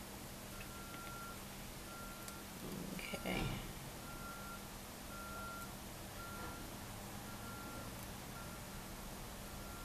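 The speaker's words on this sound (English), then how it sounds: "Hear a truck outside backing up." A truck reverses somewhere outside, its backup alarm beeping in a steady, evenly spaced pattern that sounds distant and faint beneath a low engine rumble, with a short louder burst of nearby noise partway through.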